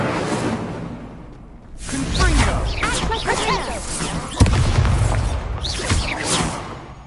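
Incendio fire spell cast in Hogwarts Legacy, a whooshing burst of flame with a sharp impact thump midway through, set among game battle noise and voices.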